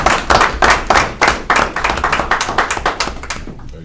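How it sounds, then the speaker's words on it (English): Close, loud clapping at a county school board meeting, a run of distinct sharp claps in an uneven rhythm from a small group, fading out abruptly at the end. "Round of applause for them."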